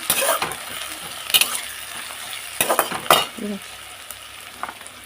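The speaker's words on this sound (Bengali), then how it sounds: "পেঁয়াজটা যে লাল লাল করে হয়ে গেছে ভাজা" Onions sizzle and fry in a pan until browned, with a few sharp scraping and clinking sounds of stirring scattered over the steady hiss.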